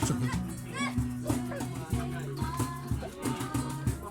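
A dog named in a family birthday gathering barks and yips a few times amid children's voices and chatter, with a repeating musical tone underneath and adults talking nearby.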